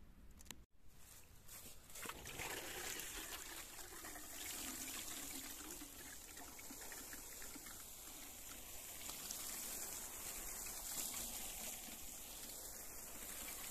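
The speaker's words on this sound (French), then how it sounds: "Alors maintenant, je vais arroser tout ça." Water pours steadily from a watering can onto a garden hotbed layered with hay, a continuous soft splashing shower. It follows a sharp knock at the start and runs at an even level to the end.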